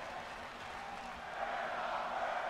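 A wrestling crowd in the WWE 2K24 video game chants and roars as one continuous wash of noise that swells a little partway through.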